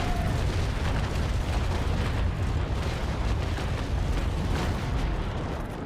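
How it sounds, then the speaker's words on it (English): Ship cannon broadside firing in the naval video game Naval Action, a loud dense roar of many guns blending into a continuous booming blast that holds for several seconds, with no voices. "lower the cannons down. And... fire!"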